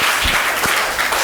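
Students clapping together in a classroom, a loud, dense burst of applause from a group of many hands that carries on evenly through the short moment.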